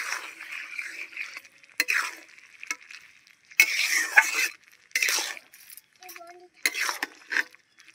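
Amudi fish and chili powder stirred in a pan: intermittent bursts of scraping and sizzle separated by near-silent gaps, with clinks of a metal spoon against the pan.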